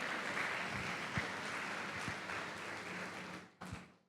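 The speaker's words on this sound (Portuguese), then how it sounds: "Dê uma salva de palmas, Senhor" A church congregation at a family worship service gives a round of applause, a dense wash of clapping that fades out after a few seconds, with a few louder thumps near the end.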